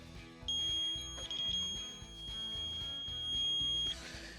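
A multimeter set to continuity emits a steady, clear electronic tone lasting about three seconds while testing the bake element of a Samsung stove, sounding alone over faint background noise.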